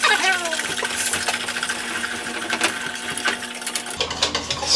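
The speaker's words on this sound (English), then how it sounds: "Whisk it and froth it." Butter beer being whisked and frothed, a rapid metallic clinking and scraping of a whisk against a container, close and continuous with sharp rattles throughout.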